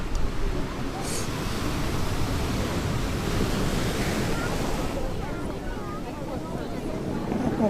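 Ocean surf rolls onto Miami Beach in a steady, loud wash of breaking waves, with wind buffeting the microphone throughout and faint voices in the background.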